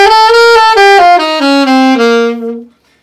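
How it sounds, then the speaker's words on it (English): An ascending melodic minor scale climbs step by step on a bright, sustained keyboard-like instrument, each note held briefly before the next, ending on a fading final tone. "the ascending melodic minor scale."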